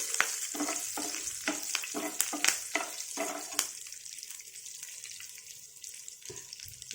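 Ridge gourd curry with milk is stirred in a pan, a spoon scraping in quick repeated strokes over a steady sizzle, then the stirring slows while the frying hiss carries on alone.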